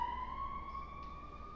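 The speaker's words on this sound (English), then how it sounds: "there's the sirens, they must have heard me." Emergency vehicle siren with a steady sustained tone, distant and fairly faint, holding throughout the brief stretch.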